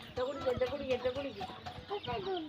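A hen clucks in short, rhythmic bursts close by, with a voice talking over the calls at a home farmyard.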